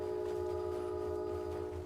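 A train in the video game Assassin's Creed Shadows rumbles steadily with a sustained horn-like tone over it, loud and continuous throughout.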